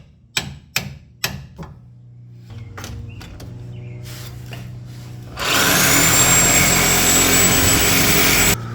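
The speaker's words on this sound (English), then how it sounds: "we're going to grab a Sawzall, cut the head off, and then we'll be able to pull the bolt out this way" A Sawzall reciprocating saw cuts the head off a bolt on a Raptor truck. Several sharp metallic clanks come first, then a loud, steady buzzing saw roar takes over for the final few seconds.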